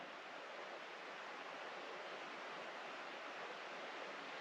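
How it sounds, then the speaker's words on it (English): A creek at the edge of a mountain property flows with a soft, constant rushing hiss, even and faint, with no talk over it. "You can really hear the creek,"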